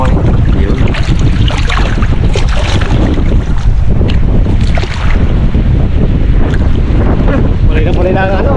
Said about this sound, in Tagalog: Alon na kasang hangin.